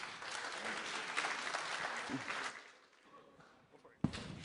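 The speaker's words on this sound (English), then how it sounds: "Clap, please." Audience applause fills the room, steady clapping that thins out midway, with a sharp burst near the end and faint chatter underneath.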